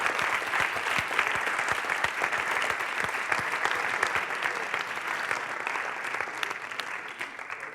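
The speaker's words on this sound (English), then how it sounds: "Big applause to them." An audience at a startup competition final applauds steadily, a loud, dense wash of clapping that holds for several seconds before tapering slightly at the end.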